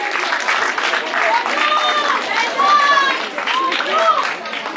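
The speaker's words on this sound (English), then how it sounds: "A round of applause for the shining girl on the stage." An audience at a 2016 award ceremony applauds the best athlete award winner, a steady, dense wash of clapping with cheers and crowd voices running throughout.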